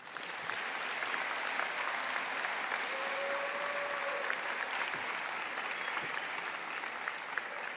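Steady applause from a university convocation audience fills the hall, a dense, even clatter of clapping that holds at constant strength throughout, with no talk over it.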